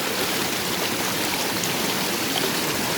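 Water steadily rushing and washing through a gold pan at a stream, a continuous close wash of splashing and trickling with no talk.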